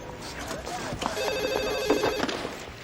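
A telephone rings in a police squad room, a short electronic trill that comes in about a second in, mixed with footsteps and bustle while people talk.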